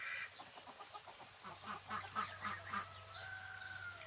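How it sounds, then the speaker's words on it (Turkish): A young rooster crows near a second bird after a sparring bout, with a long sustained call at the end following a run of short, choppy clucking notes. Moderate level, no talking. "E, öbürkü de öttü."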